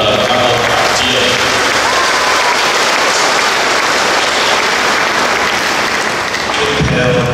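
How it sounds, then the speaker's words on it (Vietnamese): A church congregation applauds at a Mother of God feast-day Mass in a Vietnamese parish, steady dense clapping that fills the room and continues without a break, loud and close. "Xin quý ông bà chị em chúng ta cho một tràng vỗ tay như một lời cảm ơn và tri ân."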